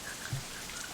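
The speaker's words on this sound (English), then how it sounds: "The rest of my voice is completely drowned out by an even heavier burst of rain." Heavy rain in the visual novel game Katawa Shoujo, a steady dense hiss of falling water with no distinct drops, soft and continuous throughout.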